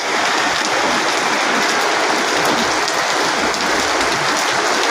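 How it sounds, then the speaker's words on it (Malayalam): Heavy rain pours down steadily in a dense, unbroken hiss that stays close and loud from start to finish, with no voices over it. "heavy rain is there, thunder, lightning, everything"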